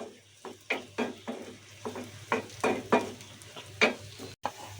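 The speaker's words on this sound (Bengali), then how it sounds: "পেঁয়াজটা গোল্ডেন কালার হওয়া পর্যন্ত আমি ভেজে নিব" Onions being fried until golden for a khichuri tempering, with repeated scraping and stirring strokes of a spatula against the pan over a soft background sizzle, close and moderately loud.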